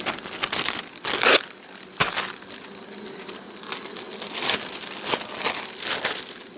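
Plastic bags crinkling and rustling up close while pieces of a drone frame are packed into them, with irregular bursts of crackling between quieter handling.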